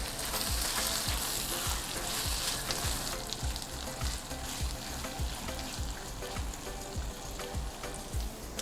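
A mixed seafood stir-fry with sambal and ketchup sizzles in a pan while being stirred, giving a steady, close frying hiss broken by rhythmic scraping strokes, with no talking.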